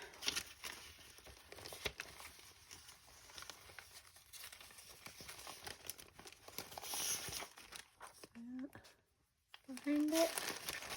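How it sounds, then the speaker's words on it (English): Old junky bag of paper being rummaged, with close, soft crinkling and rustling that runs in bursts and dips to near silence before a short final flurry, with a voice speaking briefly near the end. "Gotta grab my old junky bag of paper."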